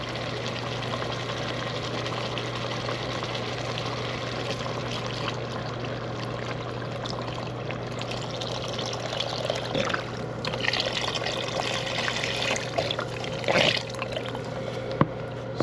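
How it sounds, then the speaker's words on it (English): Chicken stock is poured into a cooking pot for osso buco, making a steady running trickle under a constant low hum, with a few clinks and splashes toward the end. "I'm going to add some chicken stock to it."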